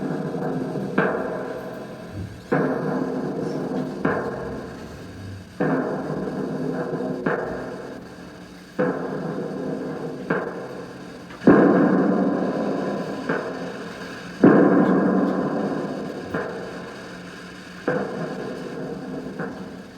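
Staged volley of gunshots fired by soldiers in a Hamlet performance, with about nine sharp reports at a steady interval of roughly two seconds. Each report is loud, decays slowly and rings with reverb.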